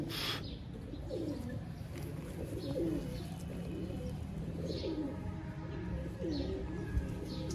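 Pigeons of a rare Lahore show breed coo repeatedly in low, rolling phrases, close by and moderately loud, with a few faint chirps above and a steady background hum and no talk.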